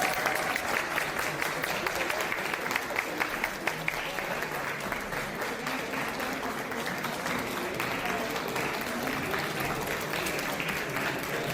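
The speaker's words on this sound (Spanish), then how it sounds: "se fue retirado con aplausos en la sala del Senado" Applause fills the Senate chamber as a steady, fairly distant wash of clapping from many hands that continues evenly for over ten seconds.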